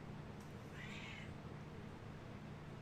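A single short cat meow, faint and somewhat distant, rising briefly over a steady background hum, with no talk.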